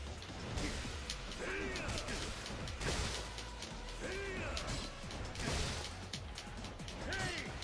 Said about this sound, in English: Breaks my heart to hit him with a motorcycle,